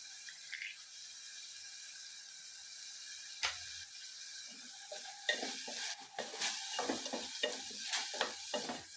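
Ginger garlic paste with spices is stir-fried in a pan for a Karnataka-style rice bath, with a steady low sizzle and a series of scraping, clattering spatula strokes that grow busier toward the end.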